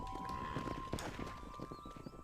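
A horse's hooves clip-clop at a steady walking rhythm while it is ridden and drives cattle in Red Dead Redemption, close and clear over a constant background hum.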